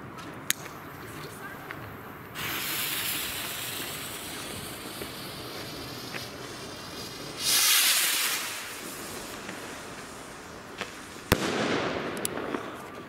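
Jorge Nautilus firework rockets launching outdoors: sharp pops, hissing whooshes as rockets climb, and crackling bursts, with a louder hissing rush midway and a sharp bang near the end; a voice is faintly heard at times.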